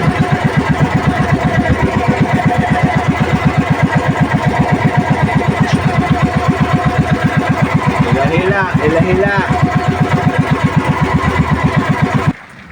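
A fishing boat engine chugs loudly and steadily in a fast, even rhythm, with a voice briefly speaking over it, then cuts off at the end.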